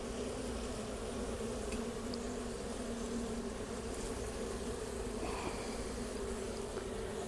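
Honey bees swarm at an open hive during a routine inspection of the honey super and brood box, a steady, dense buzz close by with a few louder passes and no talk.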